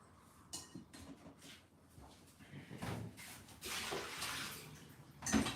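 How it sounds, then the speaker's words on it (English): Running water rinsing sprouts, a steady splashing stream with occasional clunks of a container, close and moderately loud. "I'm gonna rinse them one more time"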